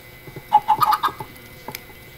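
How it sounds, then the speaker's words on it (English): Chickens in a video game give a quick burst of clucks, several short chirpy calls bunched close together, then a single lone cluck against a quiet background. "Okay, another chicken for me"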